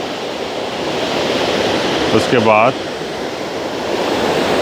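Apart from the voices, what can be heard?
water cascading down a channelled creek waterfall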